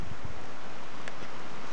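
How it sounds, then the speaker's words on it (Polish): Steady wind rushing and buffeting against the microphone, a broad hiss with faint rustling, constant throughout. "ale wiatr wszystko wieje"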